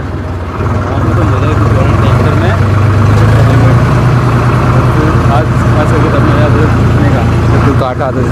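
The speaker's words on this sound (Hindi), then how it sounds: "यहाँ पर ट्रैक्टर फंस गया है यहाँ पर, क्योंकि किचड़ है ना" A tractor stuck in mud idles with a loud, steady, close engine rumble that holds throughout, with people talking over it.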